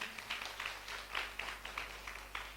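An audience applauds faintly to welcome Rani Yadav at a gathering, a thin, distant patter of clapping with uneven bursts over a short stretch.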